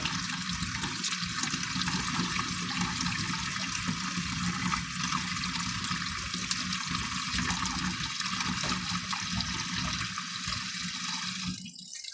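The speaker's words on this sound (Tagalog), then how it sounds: "siguraduhin po natin umaagos yung tubig sa paglilinis" Tap water runs steadily and loudly throughout while leafy vegetables are rinsed in a kitchen sink for Filipino pork belly sinigang, a continuous close gush with no talk.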